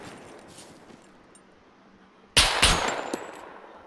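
Quiet background, then a sudden loud burst of rapid gunfire with a few trailing shots, fading out afterward, in the video game SCUM.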